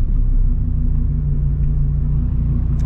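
Dodge Viper V10 supercar engine idling and rumbling steadily from inside the car, a deep continuous low drone at moderate loudness with no talk.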